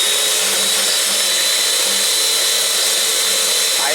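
Tallow soap mix is whipped at high speed in a large bowl, likely with a hand blender or mixer, giving a loud, steady, continuous motor whine with no break.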